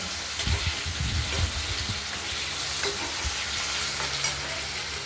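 Potatoes frying in oil, with a steady close sizzle and a few scraping stirs of a utensil in the pan; no talking.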